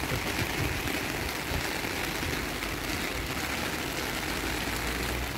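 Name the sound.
rain falling on street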